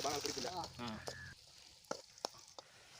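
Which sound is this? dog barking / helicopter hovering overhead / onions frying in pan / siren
onions frying in pan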